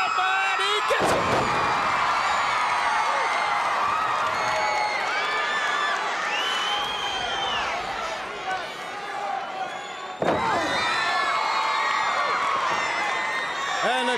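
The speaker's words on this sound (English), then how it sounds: "And the crowd loving it." A 1980s wrestling arena crowd roars and cheers after a vertical suplex, loud sustained noise with a sharp slam-like burst near the start and another around ten seconds, a commentator talking over it.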